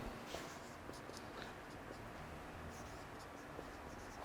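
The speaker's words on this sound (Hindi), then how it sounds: "तो देखो सवाल लिखते हैं" A pen scratches and taps on paper while a math question is written out, in short strokes with faint clicks, quiet and close over a steady background hiss.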